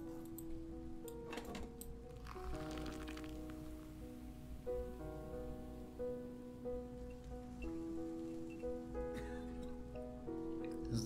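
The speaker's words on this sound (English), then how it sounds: "First time it rained since I moved here." Steady rain falls throughout, a soft broadband patter sitting beneath louder music with sustained melodic tones and no clear talk.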